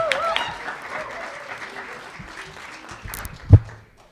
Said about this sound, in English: Please give it up for Chase Goodwin, everybody.